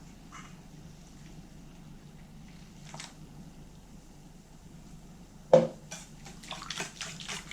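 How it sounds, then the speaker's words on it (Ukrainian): A litre of milk is poured into pumpkin-orange crepe batter in a bowl; a quiet stretch gives way to a sudden splash and then a gurgling, bubbling pour near the end, close and without talk. "Тепер додаю 1 літр молока."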